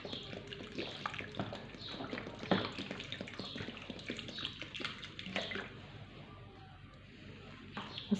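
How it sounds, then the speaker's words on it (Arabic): Water poured from a container to soak the soil of a potted mint plant, a steady splashing, trickling stream that runs close and continuous, easing slightly toward the end. "هجيب الميه واسقي غمر"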